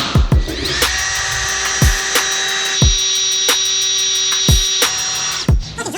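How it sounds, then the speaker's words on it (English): A power drill spinning a reverse extractor bit to pull a broken stud on a Porsche 911 whirs steadily with a high whine, broken by several sharp clicks and thumps as it runs continuously for several seconds. "we got some extractor bits, which is basically just a reverse drill bit"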